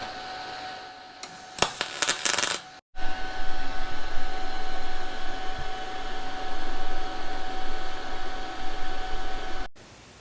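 A Harbor Freight Titanium welder with a spool gun welds aluminum, starting with a short crackling burst, then a sustained loud buzzing hiss of the arc for several seconds before it cuts off abruptly.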